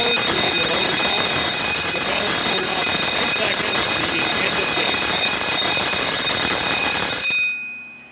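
Electronic alarm of an automatic airsoft game timer, a loud continuous high-pitched ringing tone that sounds steadily for about seven seconds and then cuts off abruptly.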